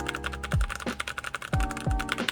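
Keys with unlubed AKKO rose red switches are typed on a cheap keyboard, a quick, close run of clacky keystrokes with a few deeper thumps, alone without talk.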